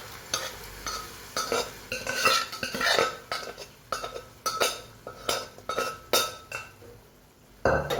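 A spatula stirs spinach and chana dal in a metal pan on a gas stove, with rhythmic scraping strokes and clinks, about a dozen close, loud sweeps separated by short pauses.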